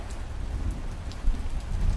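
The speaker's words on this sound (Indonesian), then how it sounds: "Rintik hujan menjadikan suasana hari itu terasa lebih dingin dari biasanya." Light rain falls steadily, soft close patter with an even hiss across a brief moment, no voices.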